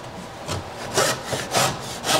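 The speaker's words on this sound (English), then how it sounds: "I'm going to get the cut started" A hand saw starting a dovetail cut in wood beside a dovetail marker, making four or five short rasping strokes in a steady rhythm, close and clear with no talk.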